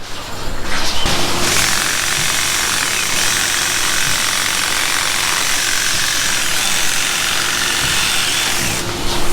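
Battery drill spinning the Tailwell trimmer through a cow's tail hair, a steady, loud motor buzz running continuously for several seconds with no pauses, close to the listener.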